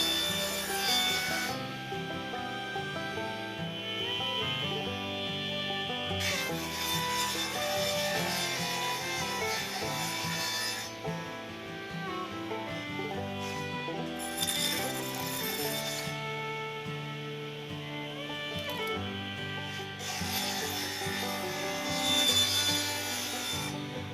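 Wooden board from an old window being cut against a machine fence during a homestead repair, a steady, close rasping and grinding that swells and fades in repeated passes with no talk.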